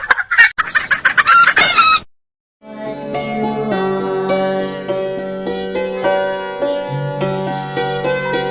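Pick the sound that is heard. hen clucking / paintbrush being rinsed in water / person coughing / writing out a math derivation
hen clucking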